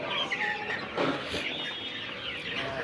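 Chickens being fed a protein meal cluck and squawk close by in a busy, overlapping flock, with a few sharper calls rising above the steady clamor.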